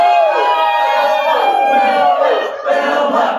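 A group of children shouts and cheers together loudly and close, a sustained excited cry rising and falling for a few seconds.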